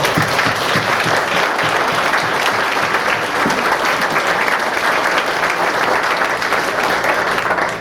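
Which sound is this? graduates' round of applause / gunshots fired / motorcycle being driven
graduates' round of applause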